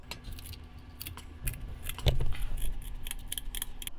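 Scissors snipping through the sharp, tough fins of a Jeju red sea bream in a kitchen, a series of crisp metallic clicks and cuts, quiet and close, with a heavier thud midway.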